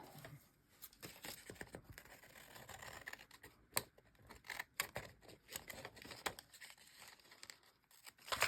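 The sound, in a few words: scissors trimming paper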